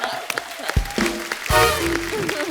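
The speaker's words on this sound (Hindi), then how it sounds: "जोरदार तालियां एक बार।" A studio audience breaks into loud applause and cheering on a Kapil Sharma comedy show, swelling over a brief musical sting and rising strongest in the final second.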